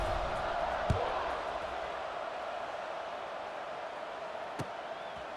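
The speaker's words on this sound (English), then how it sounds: "this crowd is buzzing after that last score" A stadium crowd in the college football video game EA Sports College Football 26 keeps up a steady broad roar after a score, with a couple of faint thumps rising out of the din.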